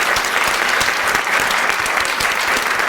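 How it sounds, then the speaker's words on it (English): An audience claps for the volunteers and team at a live event, a dense, steady burst of applause that holds from start to finish with no talk over it. "So big round of applause to our volunteers and our teams."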